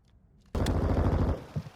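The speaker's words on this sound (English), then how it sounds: "Now this is pretty much dead on to the grease gun." A grease gun fires in Call of Duty MW2 on the Shipment map, a sudden loud rapid burst of automatic shots lasting under a second after near silence, then a couple of fainter trailing thuds.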